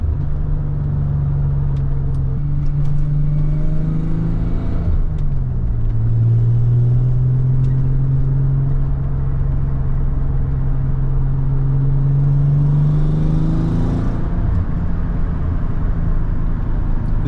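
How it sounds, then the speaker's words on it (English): A freshly built Nissan 300ZX with a twin turbo V6 of just over three liters and a five-speed manual drones loud and close from the cabin, its revs rising, dipping around a shift, then climbing steadily before easing off. "All the noises in this car are"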